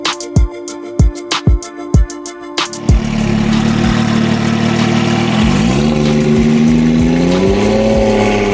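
Twin-turbo Porsche 996 911 engine giving a series of sharp, close blips of revving, then settling into a loud sustained drone that climbs in pitch through the gears while driving.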